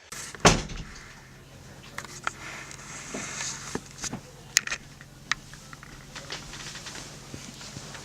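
A door being handled indoors: a sharp loud knock or bang near the start, followed by scattered softer clicks and taps of a latch or handle over a low steady hum.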